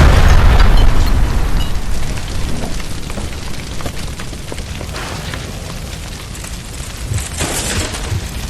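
A gas line beside a stove explodes in the L.A. Noire video game. A loud, close boom hits at the start, then a rumbling, crackling roar of debris slowly fades.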